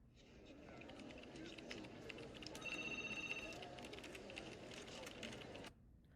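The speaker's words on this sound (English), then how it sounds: "we heard the background of typing, that call center noises" Busy call-center background: murmuring voices and keyboard clatter, with a brief electronic phone tone partway through. The noise cuts off abruptly near the end.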